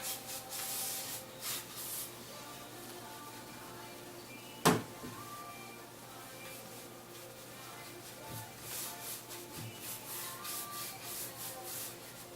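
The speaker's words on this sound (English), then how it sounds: "This is why I love our round brushes, because you can get into all these nooks and crannies really easy" Round brush working chalky paint over wooden furniture, a soft continuous scrubbing and rubbing texture at close range, with one sharp knock partway through and faint background noise.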